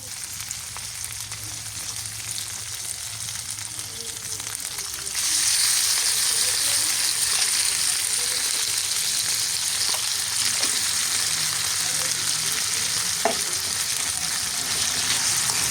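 Ground pork sizzling and frying in a pan for sisig, a steady loud crackle that jumps up sharply partway through as the meat goes in, then continues evenly with light stirring.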